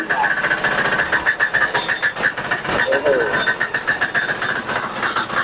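A small walk-behind farm cultivator engine chugs steadily as its clutch is slowly released, loud and close, with someone talking over the running engine.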